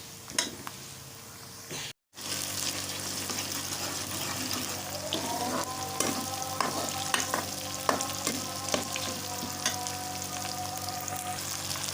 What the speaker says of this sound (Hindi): प्याज को भी हम 4 से 5 मिनट के लिए फ्राई कर लेंगे।